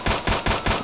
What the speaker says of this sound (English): I'm just going to start shooting them.